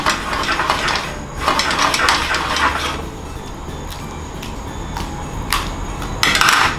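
Mapo tofu is stirred in a pan over heat after a potato-starch-and-water slurry is added, with a utensil scraping and clattering against the metal in uneven bursts, close and fairly loud, and no talking.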